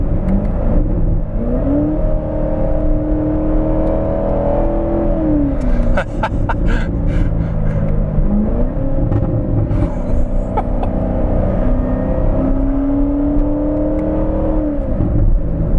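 A 2019 Chevrolet Corvette ZR1 on the move, its engine droning loudly from inside the car and rising in pitch through repeated accelerations, with brief drops at each gear change and some faint interior rattles.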